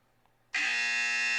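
After half a second of near-quiet, a loud, harsh electronic buzzer cuts in abruptly and holds at a steady, unbroken tone to the end.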